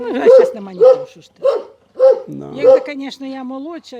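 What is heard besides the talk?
dog barking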